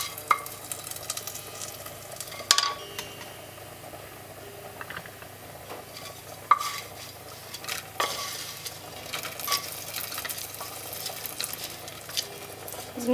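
Sausage frying in its own rendered fat in a pot on a home stove, a continuous soft sizzle broken by occasional sharp clinks and scrapes from stirring, close and without talk.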